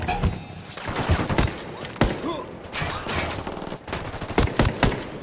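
Gunfire from the video game Ghost Recon Wildlands, with loud rapid bursts and single sharp shots cracking through the whole stretch, mixed with game sounds and some speech.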